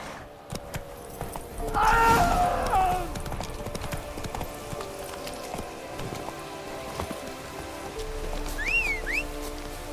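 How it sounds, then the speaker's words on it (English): Rain patters steadily in The Witcher 3 under hoof clip-clop, horse sounds, and brief talk, a soft continuous wash across the scene. "Looks like rain."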